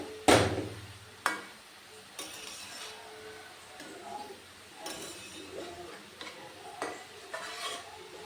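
A spoon scrapes repeatedly through grated papaya cooking down in ghee in a pan for Bengali papaya payesh. A sharp knock against the pan opens a steady run of close stirring strokes.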